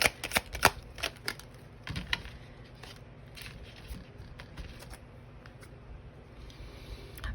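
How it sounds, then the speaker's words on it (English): Tarot cards shuffled by hand from a thick, hard-to-shuffle mixed deck: quick, dry riffling taps and flicks, busiest in the first two seconds, then softer intermittent shuffling, close and quiet with no voice. "thank you for your patience while I shuffle this like mishmash I made, because it's very hard to shuffle"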